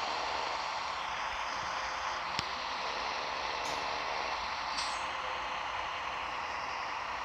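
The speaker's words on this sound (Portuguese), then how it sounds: "Deixa eu estar freando porque a gente tá chegando perto de um pedágio" Simulated truck in Grand Truck Simulator 2 slowing toward a toll booth, a steady broadband engine and road rumble with a brief sharp brake hiss partway through and faint airy releases later, no talking.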